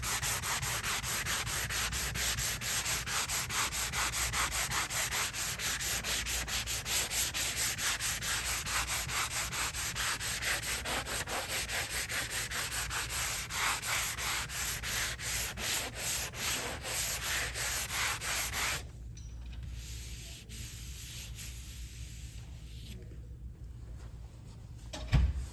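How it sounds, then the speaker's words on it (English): Steady, continuous rasping of sandpaper over primer on a baseboard, rubbing back and forth close up, then a quieter, lighter scuffing toward the end. "so now we sand down the primer that I put on there."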